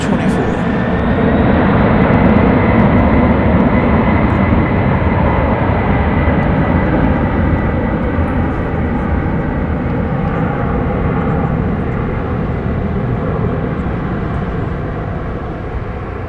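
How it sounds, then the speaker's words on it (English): A passenger airplane takes off at DFW Airport on a night in North Texas, its loud broadband jet roar sustained throughout and fading slightly toward the end. "I've seen this aircraft type take off at steeper angles than that, I must say."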